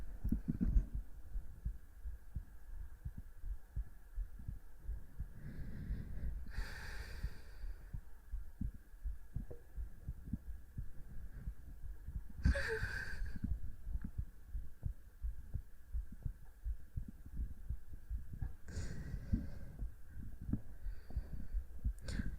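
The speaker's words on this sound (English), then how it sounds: "I can hear my own heartbeat too because I have my monitoring on" A person's own heartbeat picked up through close audio monitoring, a steady low throbbing pulse running continuously and quietly beneath a soft hum, with occasional brief rustles over it.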